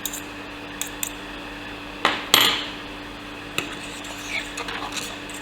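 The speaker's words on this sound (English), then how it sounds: "You have to kind of stir it quick when you first turn the heat down" A fork scrapes and clinks against a pan while stirring chicken à la king sauce on the stove, sparse metallic taps and scrapes with a louder cluster in the middle, close and otherwise quiet.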